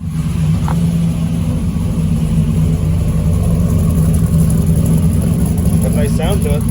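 A Chevrolet Silverado pickup with a Cadillac engine conversion runs with a loud, steady low rumble throughout, with short bursts of faint speech-like sounds near the start and end.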